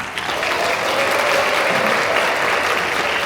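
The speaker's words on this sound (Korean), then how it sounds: "지금부터 신랑, 신부, 결혼식을 여러분들의 뜨거운 박수와 환호로 시작하겠습니다." Wedding guests break into sustained, enthusiastic applause as the ceremony opens, a full, even roar of clapping from a sizable crowd in the hall, with no speech over it.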